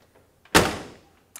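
The driver door of a 1969 Mercury Cougar opens with a single sharp mechanical clunk, close and fairly loud, its ring fading over about half a second in an otherwise quiet space.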